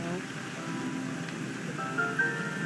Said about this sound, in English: Rain is coming down where we're reporting right now.